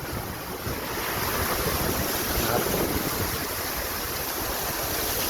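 Heavy floodwater rushes through the center of Chaiyaphum city, Thailand, roaring steadily and loudly throughout, a dense broadband wash with wind buffeting the microphone.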